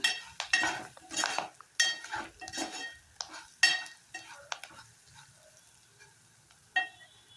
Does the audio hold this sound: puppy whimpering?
no